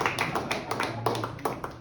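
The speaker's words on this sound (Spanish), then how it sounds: "usted le dé un fuerte aplauso a Dios" Applause at an evening church service in honor of the pastor, a handful of distinct sharp claps in an irregular rhythm, moderately close with a faint voice beneath.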